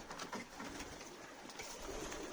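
Homing pigeons coo softly in a coop on a snowy winter evening, low rolling calls repeating close by over a faint background hiss.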